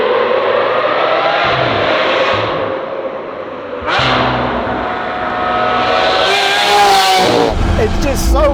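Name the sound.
Lamborghini Aventador SV Roadster engine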